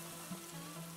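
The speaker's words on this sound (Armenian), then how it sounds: "Որպեսզի սոխը անմիջապես սկսի տապակվել։" Onions frying in hot oil for Lenten pasuts tolma: a short, steady, even sizzle with no talk over it.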